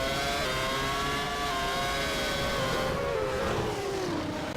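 Racing cars in a German Grand Prix sim race, one a Ferrari, scream at high revs, their engine pitch sliding downward as they pass; a constant loud drone with no talk.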